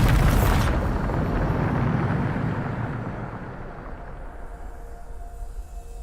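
A Bombarda explosion spell in Hogwarts Legacy lands as a loud, deep boom right at the start, then a long low rumble that slowly fades over several seconds, with no voices.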